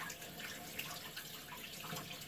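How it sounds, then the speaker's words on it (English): Hot tap water runs steadily from a faucet over a shaving brush in a sink, a continuous close hiss and splash with no talking. "I'm just going to take my brush and run it under some hot water here to get it wet."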